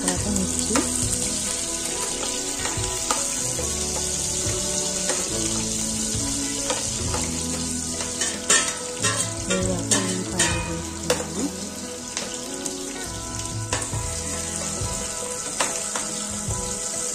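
Mustard seeds and cumin frying in hot oil, a steady loud sizzle with rapid crackling pops as the seeds spatter, close up and without talk.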